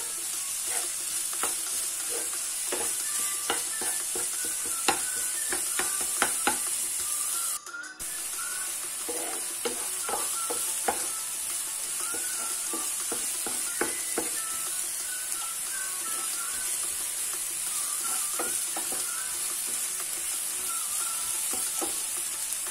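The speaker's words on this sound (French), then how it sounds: "Je fais revenir tout doucement, tranquillement pour que les oignons aient le temps de fondre." Onion and garlic fry slowly in a pan, a gentle continuous sizzle with frequent spatula clicks and stirring scrapes close by, lasting throughout without talking.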